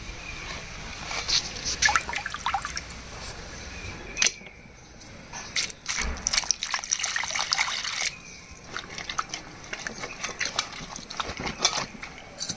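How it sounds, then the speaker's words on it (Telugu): Water is poured over small fish in a bowl to rinse them, giving close splashing and trickling with hand-stirring clatter in uneven bursts, a short pause near the middle, then renewed swishing and dripping. "మనం నీళ్ళు పోసేసి ఒకసారి బాగా కడిగేసామనుకోండి"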